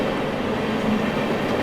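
An Indian Railways express train rushes past a level crossing, its steady loud roar and rumbling wagon rattle filling the whole stretch without a break.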